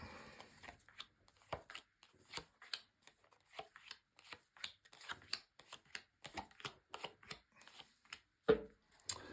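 Tarot cards shuffled by hand in quick, irregular bursts of papery riffling and tapping, close and fairly quiet, no voices.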